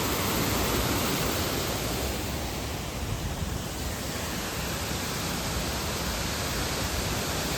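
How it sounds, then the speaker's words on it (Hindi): A fast-flowing mountain waterfall in Himachal Pradesh roars in a steady, loud, unbroken rush of white water from start to finish, with no voices. "देखो झरने का पानी कहाँ जा रहा है नीचे, और इतना तेज पानी आ रहा है ना"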